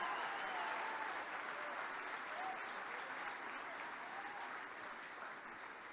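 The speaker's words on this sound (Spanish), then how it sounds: "Dale aplauso al Señor que vive y reina para siempre." A church congregation applauds together at a church-growth congress, a fairly faint, distant wash of clapping that holds steady for several seconds and slowly tapers.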